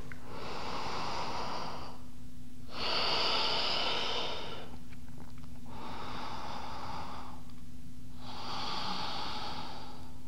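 Slow, deep belly breaths during a vinyasa yoga session, four long airy inhales and exhales in steady alternation, close and clear over a faint constant hum, with no talking.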